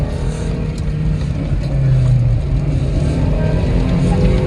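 A rally car engine accelerates on a special stage at the Marpol Rally, a loud, steady mechanical roar that holds and swells slightly, heard from close by with no voices.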